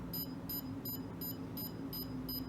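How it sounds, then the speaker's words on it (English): Rapid electronic beeping from a sonar distance sensor at very close range, short high-pitched pulses repeating evenly about three times a second over a faint low hum. "it beeps at a very high frequency indicating that you are very close"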